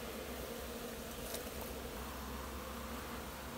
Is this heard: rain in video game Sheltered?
no